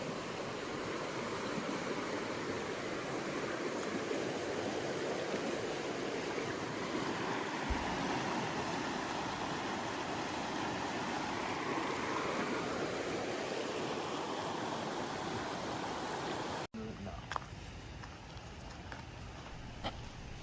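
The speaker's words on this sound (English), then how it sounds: "found a nice, beautiful flowing river" Fast water rushes steadily and loudly for a long stretch, a constant roar of a river flowing through Maine wilderness, then cuts to a quieter, thinner wash near the end.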